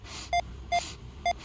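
Three short, evenly spaced electronic alarm beeps sound at close range over a quiet background.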